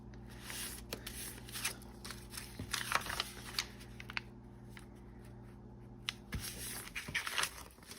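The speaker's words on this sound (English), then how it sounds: "now I'm just going to fold them in half" Paper envelopes cut to five inches being folded in half for a handmade journal, with close, quiet rustling, crisp creasing swipes and soft taps coming in uneven bursts over a low background hum.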